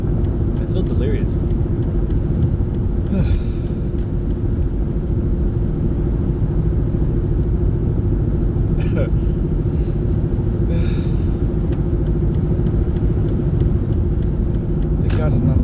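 A car's interior drones with steady engine and road rumble during a drive to work, loud and unbroken for the whole stretch, with a few faint clicks and rustles over it.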